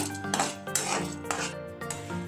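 Urad dal dry-roasting in a pan while being stirred, with repeated close metallic scrapes and rattling of the lentils against the pan over a low tonal background.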